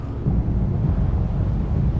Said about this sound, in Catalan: Quina tempesta més forta